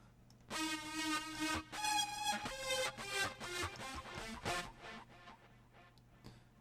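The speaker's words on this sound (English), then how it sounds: "This one's the kazoo sound, I think." A buzzy, nasal synth tone plays a series of short notes with a kazoo-like timbre, fairly quiet and without speech.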